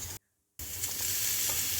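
Moong lentils boil in salted water in a wok, giving a close, steady bubbling hiss with faint low rumble, broken by a brief moment of silence early on.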